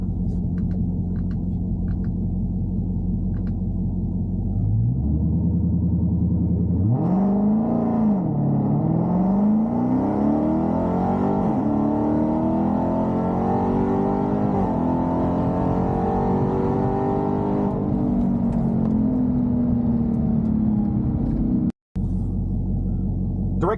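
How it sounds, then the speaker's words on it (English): Two supercharged Dodge Challenger/Charger Redeye muscle cars, one Stage 2 tuned and one stock, accelerate hard in second gear: a loud, steady engine roar rising through the revs for about ten seconds, with heavy rumble and whine, then easing off. "Stage 2 Redeye versus stock Redeye Charger."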